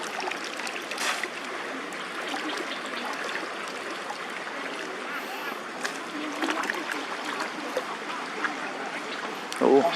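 Floodwater pours steadily from the mouth of a drainage pipe during a flood, with a continuous rushing flow throughout and a brief louder splash near the end.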